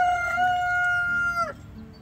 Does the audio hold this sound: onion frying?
no